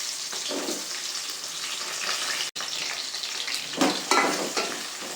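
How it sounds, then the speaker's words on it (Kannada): Onions frying in hot oil in a pan for tomato bath, a steady close sizzle throughout with brief stirring swells and one short dropout. "ಈ ಟೈಮಲ್ಲಿ ನಾನು ಈರುಳ್ಳಿ ಆ್ಯಡ್ ಮಾಡ್ಕೊತಿದ್ದೀನಿ"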